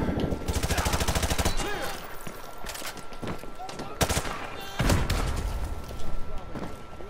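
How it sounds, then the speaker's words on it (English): Sustained automatic gunfire rattles through a Modern Warfare 2 Campaign Remastered firefight in a captured town, with rapid bursts and heavy shots landing close under occasional voices. "You guys want to stop shooting me there, partners?"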